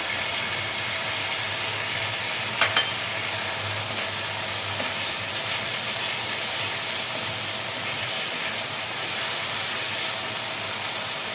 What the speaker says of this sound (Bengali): একটু ভালো করে ভাজতে হবে এটা মশলাটা একটু কড়া করে ভাজলে